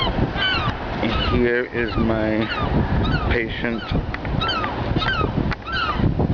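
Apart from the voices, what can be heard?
seagulls calling over Gloucester rooftops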